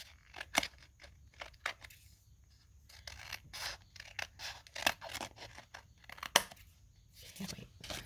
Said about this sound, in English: I'm going to go ahead and trim this a little bit more so it's more even